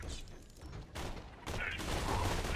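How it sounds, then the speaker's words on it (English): Gunfire rattles in Borderlands 2 as bursts of rapid shots crackle in quick succession, loud and close, broken by short gaps, with faint talk underneath. "yeah, I'll just shoot him like this."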